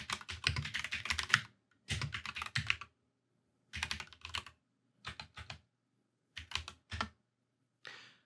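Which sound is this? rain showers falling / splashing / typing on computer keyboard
typing on computer keyboard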